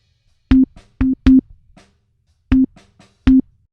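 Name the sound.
sine wave tone played from MIDI note in Logic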